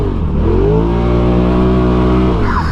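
A 180hp Polaris RZR Turbo R off-road vehicle revs hard and accelerates while drifting, its engine note rising loud and close in a steady sustained roar that holds for nearly three seconds before easing off.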